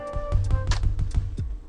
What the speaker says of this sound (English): It's like, sounds like a little drum.